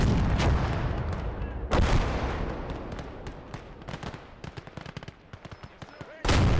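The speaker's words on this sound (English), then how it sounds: "Oh, there's my artillery hitting." Artillery shells land in a World War II battlefield game on the Eastern Front: a rapid series of heavy booms and sharp cracks, loud and close at first, then thinning into scattered distant impacts before a final blast.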